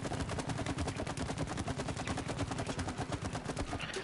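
Rapid, steady shooting at a target in the video game It Takes Two, a fast even stream of loud repeated shots filling the whole moment with no talk.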